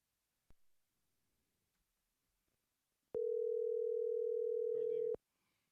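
A phone call rings while waiting for pickup: a click, then one steady two-second ringback tone that cuts off with another click, faint voices near its end.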